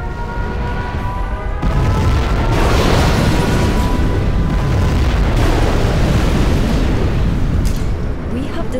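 A nuclear missile detonates in the strategy game Command & Conquer Generals Zero Hour, a loud sustained roaring rumble of explosion that swells after a brief lead-in and holds heavy through the end, with a tonal game hum underneath.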